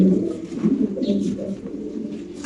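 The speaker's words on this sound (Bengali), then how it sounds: "আরেকটা কবুতর দেখতে পাচ্ছেন আপনারা" Pigeons at a pigeon farm give low, throaty rolling coos, several overlapping calls close by in a continuous burbling stream, with no clear speech.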